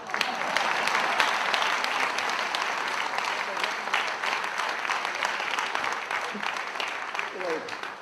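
An audience at a business talk bursts into applause, many hands clapping in a thick, steady wash that holds at one level through the whole stretch, with a bit of crowd noise mixed in.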